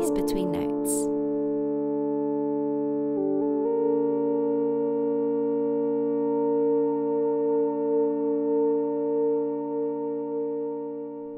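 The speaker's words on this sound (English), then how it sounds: "I ran these through a reverb to create a longer tail" Sustained Moog synth notes hold and shift in pitch, run through a reverb that leaves a long, smooth tail slowly fading.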